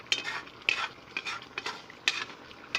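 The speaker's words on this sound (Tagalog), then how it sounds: "Galaw-galawin ko na nga." Ginataang tambakol with jackfruit in coconut milk is stirred in a pan, with spoon scrapes and wet knocks about every half second over a low bubbling sizzle.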